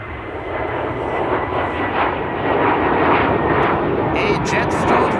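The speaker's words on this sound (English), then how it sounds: "That's an A321neo." Airbus A321neo jet airliner departing, a loud continuous roar of engines that swells slightly and holds steady throughout, without talk.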